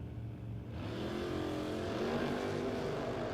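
Two drag cars, a Chevette and a 1995 Camaro, roar at a drag strip shootout, engines loud and close, rising in a sustained full-throttle blast.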